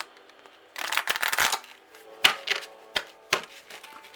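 Tarot cards are shuffled close up in a quick burst of riffling flutters, followed by several separate soft slaps and taps as the deck is squared, quiet and isolated.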